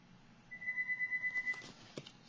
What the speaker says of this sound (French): c'est le téléphone qui sonne